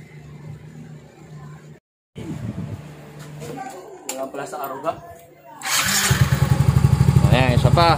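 A motorcycle engine running after a camshaft replacement, loud and close, with a brief cutout near the start and a steadier, rougher rhythmic idle toward the end; people talk over it.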